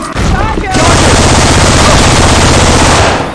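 A loud sustained burst of automatic fire, Syphon Filter weapon effects in a Left 4 Dead 2 match, hammers on for about three seconds after a short opening shot, with game voices mixed in.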